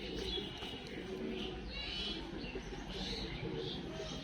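Pigeons coo softly in a loft, a low steady murmur with hissy flutters and faint chirps over it across a few seconds.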